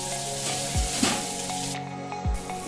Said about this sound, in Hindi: इसके बाद इसमें हम प्याज को भून देंगे